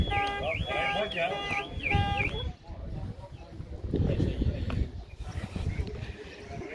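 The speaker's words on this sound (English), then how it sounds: "someone's alarm's going off" A car alarm sounds at an outdoor charity car show, its warbling siren cycling for about two seconds before cutting off, followed by crowd noise with people talking nearby.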